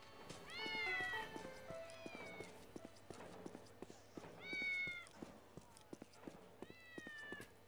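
Cats meow over and over in the video game Postal 2, three clear drawn-out meows spread across the stretch, with scattered clicks and small game noises between them.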